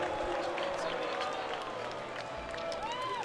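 Spectators at a Formula Drift pro round in Seattle cheer and clap in a steady crowd roar, with an announcer talking loudly over the top.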